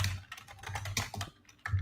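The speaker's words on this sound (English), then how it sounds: "you're typing like a maniac over there. Yeah, it's super loud." Rapid, loud clacking of keys on a computer keyboard, close up, in quick irregular bursts.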